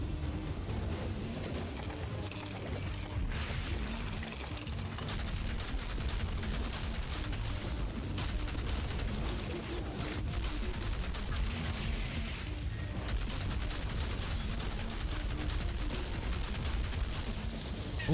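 Assault rifle fire in Outriders, a steady stream of rapid shots layered with explosions and combat effects, held at a fairly even level throughout with only brief gaps.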